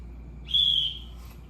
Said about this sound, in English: There's the signal. The second whistle stands for journey continues